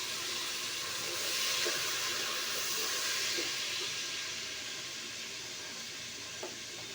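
Water added to frying onions makes a broad, steady hiss of steam and sizzling from a hot pan, swelling briefly then settling to a softer, even fizz.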